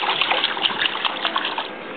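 A seven-month-old baby slaps and splashes water in a swimming pool, a dense, steady patter of splashes close by, with no talk over it.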